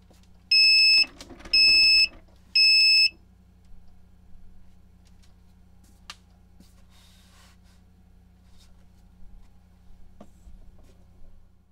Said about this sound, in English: it will create an alarm